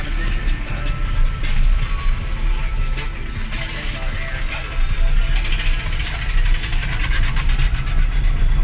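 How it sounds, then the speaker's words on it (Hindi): A train passes a railway crossing in Hojai, its loud, continuous rumble and clattering rattle of wheels and cars holding steady and close for the whole stretch with no voices. "अभी हम लोग रेल लाइन में है, ट्रेन आ रहा है"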